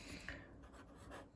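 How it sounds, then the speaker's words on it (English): A pen scratches briefly across paper while a measurement is noted down, a faint, close scribbling sound lasting just over a second. "I'm gonna write it down."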